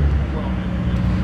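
Modified JDM car driving past at a Cars and Coffee meet, a loud low engine rumble close by, steady throughout, with people talking over it.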